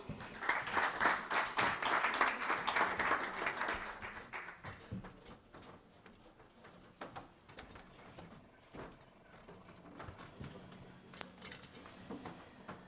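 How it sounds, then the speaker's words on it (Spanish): A seated audience at a book presentation gives a short burst of fairly faint applause lasting about four seconds, followed by scattered soft taps and room noise. "a ustedes les pido un fuerte aplauso"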